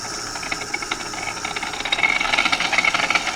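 A homemade dough mixer driven by a sewing machine motor runs with a steady mechanical whir and fast rattling, growing louder and busier toward the end.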